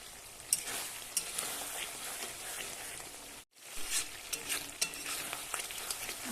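Fish fat and roe fry in a pan, a crackling sizzle with sharp spatula taps and stirring, briefly cut to near silence midway before the frying resumes, quiet and without talk.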